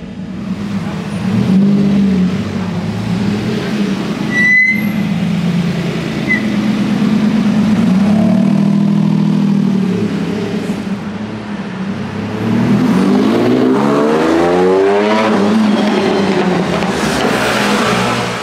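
Lamborghini Diablo V12 engine idling and revving in Monaco, a loud, close, rumbling idle that swells into rising revs and falls back, then climbs again toward the end.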